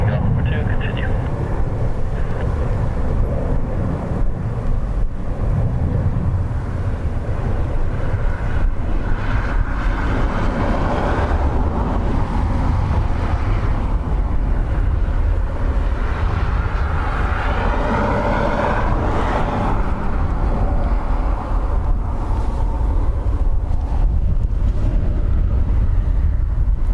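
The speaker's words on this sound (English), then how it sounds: "Learjet coming in from Bergamo, I think." A Learjet coming in to land at Dublin Airport, a steady broad engine roar held throughout at fairly close range, with wind buffeting the microphone and voices talking over it.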